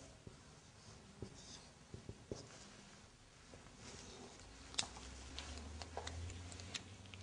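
Chalk or marker tapping and scraping on a board during an Arabic language lesson, a run of quiet ticks and short strokes at close range, with no talk.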